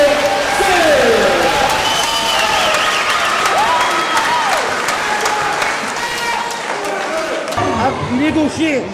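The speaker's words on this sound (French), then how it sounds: "On applaudit Frédéric" Audience at a boxing training session in Marseille applauds a boxer with steady clapping and some cheering, while voices chatter loudly over the crowd throughout.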